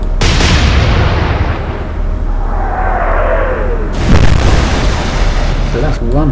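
Naval guns fire in the Atlantic Fleet warship game, a heavy booming salvo at the start and a second loud blast about four seconds later, with rumbling echoes between and a voice talking faintly under the din.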